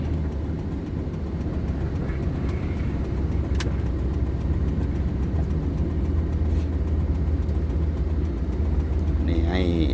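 A car drives along with a steady low road rumble and engine hum throughout, heard from inside the moving vehicle, with a brief higher whine near the end.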